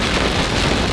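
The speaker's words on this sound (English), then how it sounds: "rain is never too far away in Florida" Steady rain pours down in Florida, a dense, even hiss that is loud and close throughout the brief moment.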